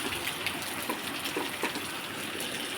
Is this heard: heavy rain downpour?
yes